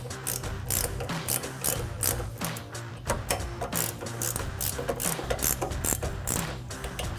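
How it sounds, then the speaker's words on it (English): A 19mm ratcheting wrench tightens a castle nut on a Jeep Wrangler TJ's steering linkage during an HD steering kit install, giving a steady, close run of rapid ratchet clicks that continues throughout with no talking. "Switch over to our 19mm ratcheting wrench, tighten down our castle nut on the steering."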